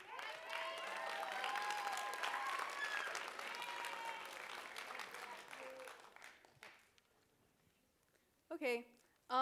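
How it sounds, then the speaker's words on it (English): A school audience claps in a sustained burst of applause at a student writing event, with whoops and voices mixed in, then fading out around six seconds before brief talk near the end. "Be supportive for them. Clap it up."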